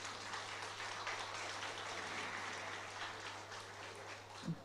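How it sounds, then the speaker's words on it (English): An audience at a sustainable apparel forum applauds the chief guest, a dense, even wash of clapping filling a hall, fairly faint and sustained throughout. "Can we please have a round of applause for our chief guest?"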